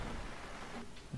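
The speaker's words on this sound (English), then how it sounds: "It's blimmin' raining as well." Rain falls steadily as a soft, even hiss of broadband noise, heard faintly and without pause over the short stretch, with no voices.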